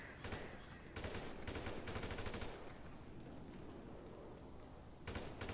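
Automatic gunfire in GTA V during a NoPixel roleplay firefight comes in several short, rattling bursts, with a quieter stretch in between. The shots are fairly faint and sound distant.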